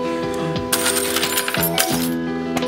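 A bunch of keys jingles and clinks as it is handled in an abandoned building, with bright metallic rattles in several bursts, close and fairly loud, no talking.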